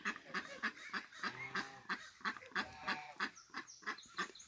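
A mother duck with her ducklings on a farm, giving a steady series of about fifteen rhythmic honking quacks, close and clear with no talking.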